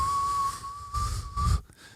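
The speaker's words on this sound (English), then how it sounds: "There's a bullish whistle." A single sustained whistle holding a steady pitch for about two seconds, fairly clear, with low background rumble beneath it and brief breaks near the end.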